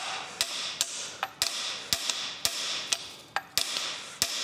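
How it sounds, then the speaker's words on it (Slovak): A hammer taps on engine parts of a 2016 Subaru Outback 2.0D, about a dozen sharp metallic strikes at an uneven rhythm, close and clear over a hissy background. "Trebujeme kladivo."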